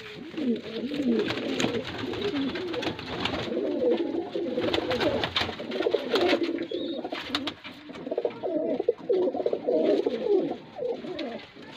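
Pigeons coo continuously and close by, with several birds' low rolling calls overlapping in a dense, steady chorus and no voices.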